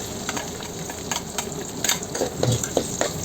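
Garlic and onions frying in a hot pan for pancit, a loud close hiss with repeated quick spatula scrapes and taps that grow busier in the second half.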